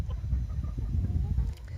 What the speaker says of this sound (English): Chickens are safe, they're happy, as you can hear.